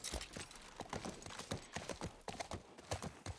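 Horse hooves clip-clop at a walk in the video game The Last of Us Part I on PS5, a steady rhythmic series of close, crisp footfalls with no talk.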